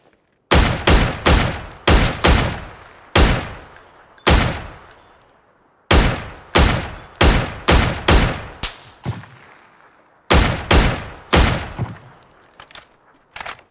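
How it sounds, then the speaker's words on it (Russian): Video game gunfire in a Russian-language shooter match: loud, close bursts of rapid shots in several volleys, each quick string of cracks trailing into short reverb, with brief gaps between bursts. "А, это слева откуда-то отсюда стреляют."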